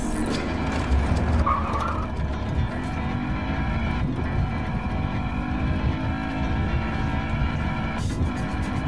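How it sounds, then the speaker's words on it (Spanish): A police car driving in a Battlefield Hardline multiplayer match, its engine droning steadily and loud throughout, with occasional skid-like swells and distant clatter underneath. "En un coche policía, venga"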